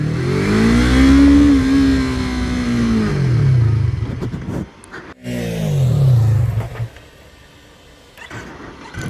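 A Yamaha R3 motorcycle revs up loudly, then its engine note falls away as it slows under engine braking, pauses, and the pattern repeats with another rev and descending deceleration before going quieter.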